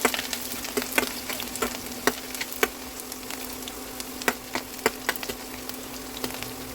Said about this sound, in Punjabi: ਸਰੋਂ ਦਾ ਤੇਲ ਹੋ ਗਿਆ ਜੀ ਗਰਮ ਹੁਣ ਆਪਾਂ ਇਹਦੇ ਵਿੱਚ ਲਸਣ ਅਦਰਕ ਪਹਿਲਾਂ ਪਾ ਕੇ ਥੋੜਾ ਜਿਹਾ ਫਰਾਈ ਕਰਾਂਗੇ